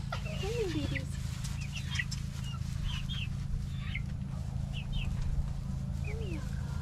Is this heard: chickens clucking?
yes